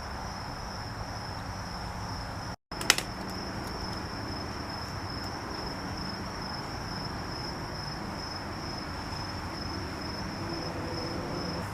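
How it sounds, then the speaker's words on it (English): Steady, dense chorus of many crickets chirping continuously in daytime, with a brief dropout and a small click near the start; no voices. "I never realized so many crickets make so much noise during the day."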